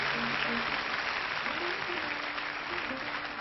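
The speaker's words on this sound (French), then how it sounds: "Ce serait qu'on l'applaudisse encore une fois pour qu'elle l'entende en coulisses" Studio audience applauding on a French television variety show, a dense steady wash of clapping at even loudness, with faint tonal traces of music or voices beneath.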